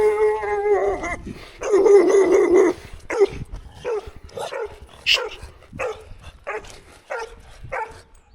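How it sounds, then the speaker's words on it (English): Several aggressive dogs in Tonga bark in quick, uneven bursts, with a couple of longer, louder barking runs at the start followed by sharper separate yaps, fairly close and clear. "dogs are all bark and no bite, although those ones are very aggressive"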